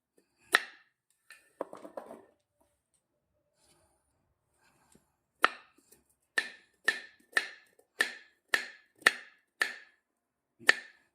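Knife slicing baby corn thin on a board: a few scattered cuts, a pause, then a regular run of about ten crisp, close chops, with no speech.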